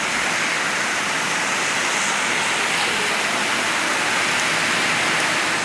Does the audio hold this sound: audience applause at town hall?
no